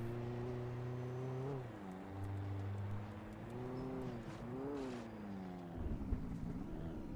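A Jeep's engine hums and revs steadily as it drives in the Alan Wake video game, rising and falling in pitch with gear changes, close and continuous, ending in rougher rumbling.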